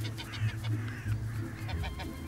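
Bar-headed geese, an ornamental Asian species kept in a Paris park, honk repeatedly in a nasal, rhythmic series over a steady low rumble of background noise.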